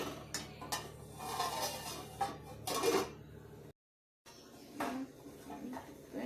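Metal pot and utensil clatter while cooking fish curry, with a few sharp clanks, ending in a lid-like clink, a short silent gap, then more light kitchen clinking.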